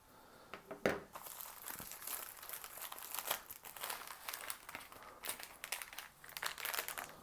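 Plastic packaging for a two-stroke marine outboard carburetor rebuild kit crinkles and crackles up close as it is cut and torn open, with sharp rustling bursts and one louder snap early on.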